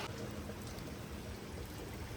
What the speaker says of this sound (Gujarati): ચાલો જબરદસ્ત વરસાદ આવે છે.